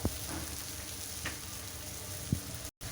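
Spice masala frying in a pan as the base for a cholar dal, giving a steady soft sizzle with a few sharp clicks of a spoon scraping the pan.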